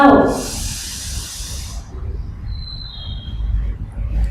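A child's slow exhalation during a seated yoga breathing exercise in a kindergarten class, a loud breathy hiss at the start that fades into quieter room noise, with a faint high tone later.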